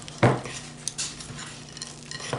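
Halloween sprinkles are stirred into chocolate chip cookie dough with a utensil scraping and knocking against the bowl, a soft close sound with a few light clinks.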